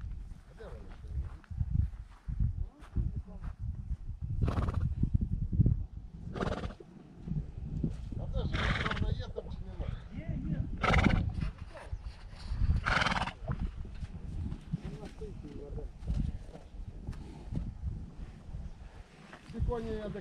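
Ardennes draft horses and foals whinny and neigh several times at close range, with hooves clopping and shuffling as people talk nearby.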